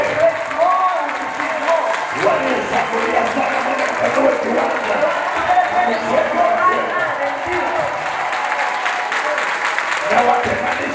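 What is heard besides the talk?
congregation applauding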